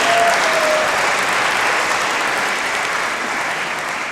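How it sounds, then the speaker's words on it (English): Audience applause at a DJ event honoring hip-hop and electronic music figures, a full, steady round of clapping that fades slightly near the end. "just a round of applause"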